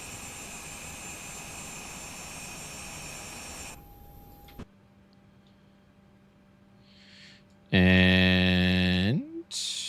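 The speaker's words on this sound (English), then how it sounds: "we've got that awesome sound. Gotta love that sound of other aircraft mixing in." Aircraft engines in Microsoft Flight Simulator 2024 on a Greek island route, a steady engine drone that cuts off, a quieter low hum, then a loud rising whine as an engine spools up near the end.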